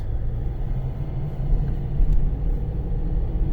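A car drives onto a dark town's central street at night, heard from inside as a steady low engine and road rumble, continuous and moderately loud with no talking.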